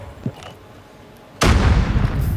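A single heavy explosion erupts in the Call of Duty Mobile video game, a sudden loud boom that keeps rumbling after a quiet lead-in with a faint blip.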